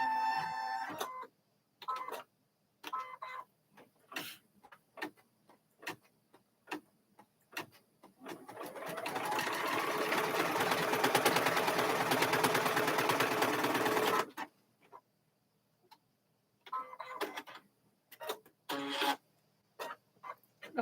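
A home sewing machine stitches in one sustained, whirring run of about six seconds. Scattered clicks and taps of handling the machine come before and after the run, in an otherwise quiet room.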